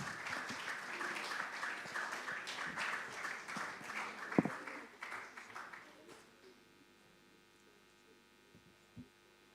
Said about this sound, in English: Let's clap for all the schools.